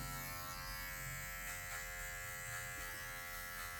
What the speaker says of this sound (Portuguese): Somente a ponta da máquina.